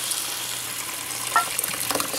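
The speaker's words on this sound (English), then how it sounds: "Now you're gonna slowly add in all of your chicken stock," Chicken stock pours into a gumbo pot with blackened chicken and spices while being stirred, giving a soft sizzle and liquid splashing with a few faint spoon scrapes near the end.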